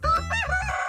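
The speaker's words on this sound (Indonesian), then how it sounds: "Ayam jago bahasa Inggrisnya rooster." Rooster crowing once, loud and close, a single drawn-out cock-a-doodle-doo call alone with no other sounds.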